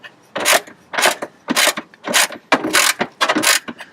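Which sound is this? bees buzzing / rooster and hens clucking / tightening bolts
tightening bolts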